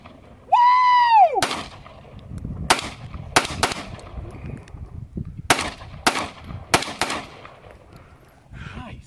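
Outdoor target shooting at a bottle, with a series of sharp, loud gunshots spaced irregularly about a second apart, preceded by a brief rising-and-falling whistle-like tone.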